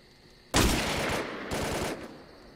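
Two loud bursts of rapid automatic gunfire in a video game, the first longer, the second shorter, close and harsh with a quiet lull before.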